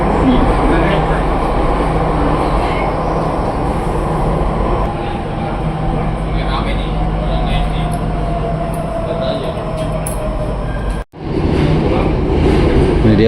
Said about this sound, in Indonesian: Ini dia wesel silangnya.